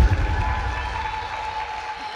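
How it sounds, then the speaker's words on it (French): Audience applause and cheering at an evening gala honoring women, a broad steady wash of clapping from the crowd with low rumble and a faint sustained tone underneath, holding evenly throughout. "S'il vous plaît, aidez-moi à faire du bruit et à applaudir Madame Danielle"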